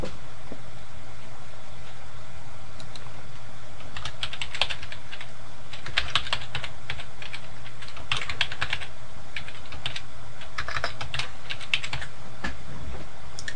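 Computer keyboard typing in bursts of quick clicks while a list is entered in Excel, close and fairly quiet over a steady background hum, with no talking.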